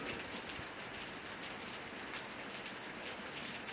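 Heavy rain pours steadily in rural Campina Grande, Paraíba, with running water mixed in, a dense, even hiss that stays close and loud throughout without any voices.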